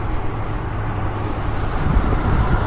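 A truck drives past on a feeder road, heard as a steady, fairly loud broadband roar of road and engine noise that swells slightly toward the end, with no talking.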